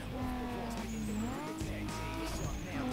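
A car's engine in the racing game Need for Speed Most Wanted revs and drops pitch through repeated downshifts, with steady engine drone and tire noise and a player talking over it.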